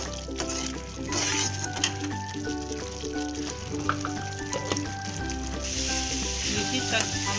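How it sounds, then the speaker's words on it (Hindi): Spice masala for a sweet-and-sour raw mango launji fries in oil in a kadhai, giving a steady, close sizzle with soft stirring under a background music bed. "देखिए हमारा मसाला अच्छे से, हमारे मसाला अच्छे से भून रहा है"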